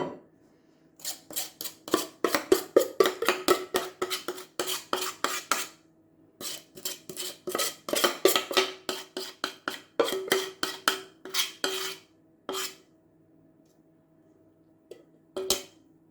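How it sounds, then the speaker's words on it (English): A spoon scrapes apple cake batter from a wooden spoon and out of a big mixing bowl, making repeated quick scraping strokes in uneven bursts with short pauses, close and fairly loud, and nobody speaks. "I just use a spoon to get all of the batter off the wooden spoon and out of the big bowl"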